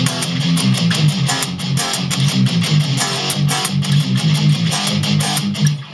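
Distorted electric guitar chugging a power chord riff with fast steady downstrokes at full speed, loud, dense and continuous with no talking.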